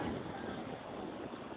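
Strong typhoon wind roars on Boracay island, a dense, steady rushing noise battering the microphone with no clear breaks across the short stretch.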